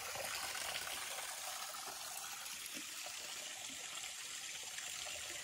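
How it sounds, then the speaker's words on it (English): Small waterfall on the Suwannee River section of the Florida Trail, a steady broadband rush of flowing water filling the whole clip at an even, moderate level with no speech. "It's a really nice little waterfall."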